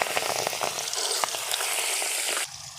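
Bay leaves and dried red chillies sizzle in hot oil as a tempering for Bengali kochu shak, a close, bright crackling fry with a few sharp pops and scrapes, then the sizzle drops quieter near the end.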